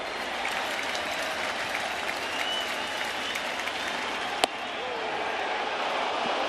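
Baseball crowd on its feet cheering at an Angels vs Yankees game, a loud sustained roar of cheers and applause throughout, with a single sharp crack near the middle.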